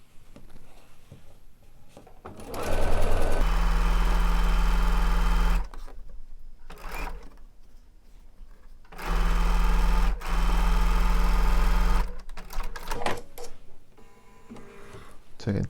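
A sewing machine stitches quilt block pieces together in two loud steady runs of rapid whirring, close by, separated by quieter handling noises and someone talking.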